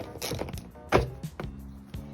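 A nut being undone on a 2018 Triumph Street Triple motorcycle, with close metallic clicks, a sharp knock and ratcheting tool sounds in short irregular bursts.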